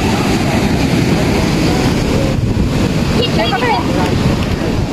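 Sea waves at the Baluarte Watchtower in La Union wash continuously near the shore, mixed with strong wind buffeting the microphone, and faint voices are heard beneath.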